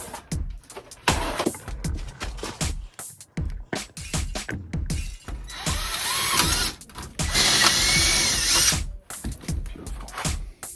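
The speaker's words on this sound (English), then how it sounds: "Pop rivets." A pop rivet tool sets rivets in a rusty snowblower under repair, giving repeated close, sharp mechanical clicks and ratcheting squeezes in bursts, with a louder sustained grinding stretch midway.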